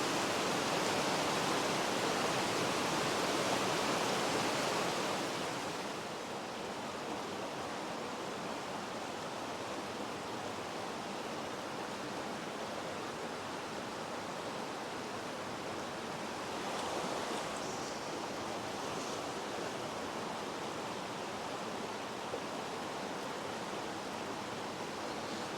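Steady rushing water of a Hebridean salmon river flowing through a classic pool, a continuous broad wash that is slightly louder for the first few seconds, with no voices.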